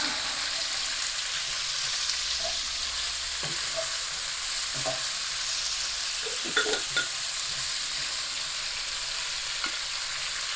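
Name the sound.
leeks and onions frying and being stirred in a pot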